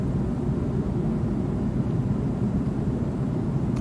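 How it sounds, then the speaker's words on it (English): In the X-Plane 12 flight simulator, an airliner's engines give a steady, loud, low droning roar that holds without change throughout, with no voices over it. "this plane sounds exactly like this in real life"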